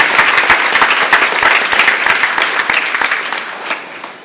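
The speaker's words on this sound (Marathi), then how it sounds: "टाळ्या वाजवा जोरात" A church congregation at a feast-day Mass bursts into loud, dense applause right at hand. The clapping holds steady, then gradually thins and fades toward the end, with no speech over it.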